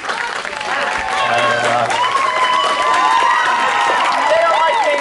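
Theatre audience applauding and cheering for the backstage crew after a Sound of Music Act 2 stage production, a dense steady clapping crowd with some whoops and shouts, loud and sustained throughout.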